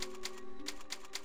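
Typewriter in the video game Resident Evil 4, a quick series of sharp mechanical key clacks in an irregular rhythm over a faint steady hum, heard alone at moderate loudness.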